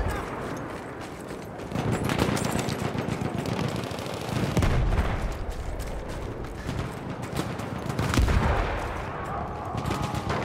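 Lewis machine gun fire in a World War I video game battle at Amiens, a dense, continuous rattle of automatic shots with heavier swells, set against the din of the battlefield.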